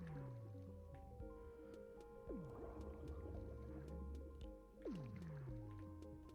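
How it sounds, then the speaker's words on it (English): Minecraft underwater ambience as a trident is unequipped: low watery rumble with drips and squishy bubbling, and two descending whooshing sweeps, close and steady, with no talking. "When I unequip my trident."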